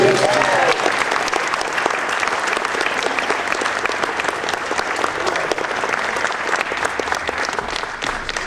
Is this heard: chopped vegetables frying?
no